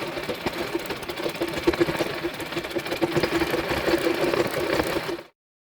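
A sewing machine stitches the folded hem of a handkerchief with a close, steady, rapid mechanical chatter that runs for about five seconds and then stops abruptly.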